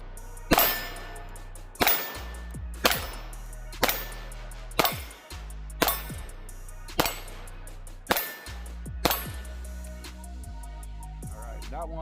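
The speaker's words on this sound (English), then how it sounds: "We'll see how good my shooting is today." Ruger LCP Max pistol fired at a steel target: nine sharp shots at roughly one-second intervals, each a crack followed by a ringing metallic clang from the steel.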